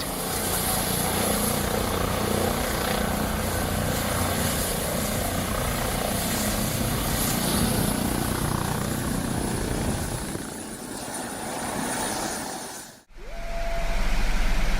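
A helicopter's rotor blades turning as it comes in to land, a loud, continuous thrumming rotor and engine roar that dips and cuts out briefly near the end before surging back.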